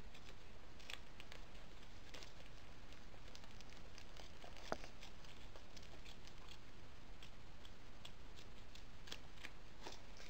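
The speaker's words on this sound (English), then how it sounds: "So we're just cutting the red." Scissors snip through red material for a stuffed toy, producing steady, soft, close cutting crunches in a continuous rhythm with no talking.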